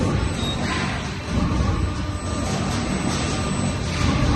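A full automatic solar channel roll forming line runs with a loud, dense, steady mechanical roar and rumble from its gearbox-driven rollers, continuous with slight swells.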